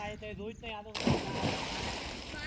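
Water splashes and sloshes continuously in a river as people bathe, a loud broadband wash following a brief stretch of voices.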